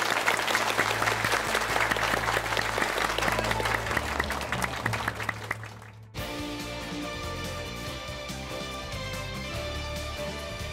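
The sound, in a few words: applause for the two duelists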